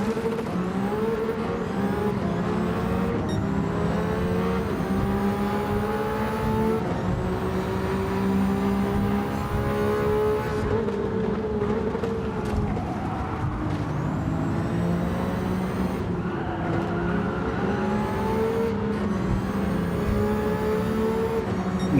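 Racing car engine in Gran Turismo 7 at sustained high revs, a loud continuous whine with repeated shifts and braking dips as it drives through a lap, with no talk over it.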